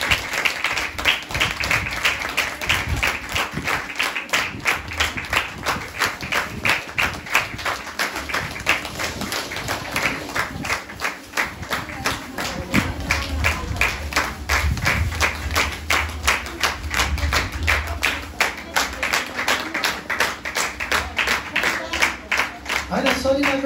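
A crowd at a church holiday gathering applauds a winning team with dense, steady clapping that lasts throughout, while voices murmur underneath.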